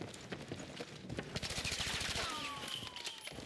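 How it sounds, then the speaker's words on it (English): Rapid automatic gunfire in Battlefield 6, a fast burst of sharp, evenly spaced shots mid-clip among other game noise, followed by a descending whistling tone. "And I'm already in here shooting at them like that."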